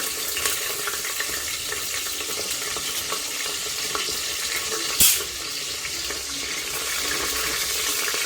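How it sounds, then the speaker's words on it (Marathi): Green chillies sizzling and frying in two spoons of hot oil in a pan, a steady crackling hiss throughout with stirring scrapes and a brief sharp clatter midway. "आता आपण हिरवी मिरची थोडीशी परतून घेऊ।"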